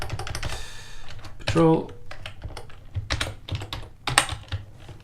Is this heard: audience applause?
no